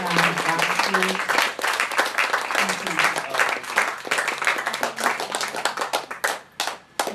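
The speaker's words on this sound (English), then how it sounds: "Give Uncle Phil, Chief Phil and Junior, a big round of applause, please" An audience at a women's convergence gathering breaks into a sustained round of clapping and applause, dense and steady throughout, fading slightly near the end.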